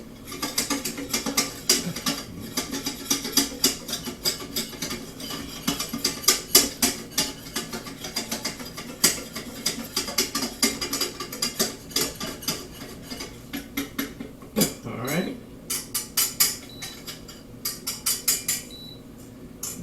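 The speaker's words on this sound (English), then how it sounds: "We're going to keep stirring this until it's smooth." A flour roux is worked in a pan with a utensil, giving a long run of quick, rhythmic scraping clicks close by. One smoother sweeping stroke comes near the end, and no one speaks.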